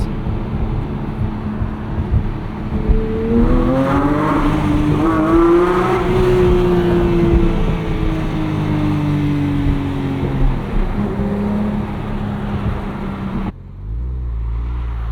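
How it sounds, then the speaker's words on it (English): A 2025 Porsche 911 GT3 Touring engine revs while driving through a city, a loud, close, continuous drone whose pitch swells upward and falls back before cutting off abruptly near the end. "You have to keep the revs up when you're taking off."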